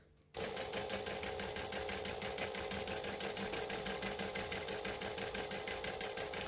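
A sewing machine stitches a rolled hem at a slow, steady pace, its motor running continuously after a quiet start with an even, rapid mechanical pulse throughout and no talking.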